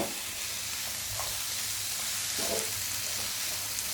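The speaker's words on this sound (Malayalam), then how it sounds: "കുറച്ച് വെളിച്ചെണ്ണ ഒഴിച്ചു കൊടുത്തിട്ടുണ്ട് എന്നിട്ട് നന്നായിട്ടൊന്ന് ഇളക്കാം" Vegetables tossed with coconut oil, turmeric and salt in a pan give a steady soft sizzle throughout, with a couple of brief scraping stirs, close by and with no talk.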